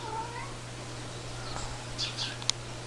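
Faint, thin meows from a small cat, a few short calls scattered over a steady low hum, with no talking.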